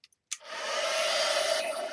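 A hair dryer switches on after a couple of faint clicks and blows steadily at close range, a smooth whirring rush drying wet paint on a journal page.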